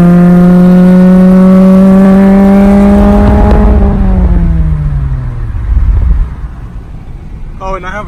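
A turbocharged 2003 Acura RSX Type S engine revs high and steady, then drops through a downshift as the pitch falls away. The sound is loud and close, and a brief voice comes in near the end.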